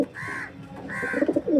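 Pigeons kept for sale, including a flying-breed pair, give close, fairly loud cooing: two drawn-out throaty calls followed by a quicker run of pulsing coos, with no one talking.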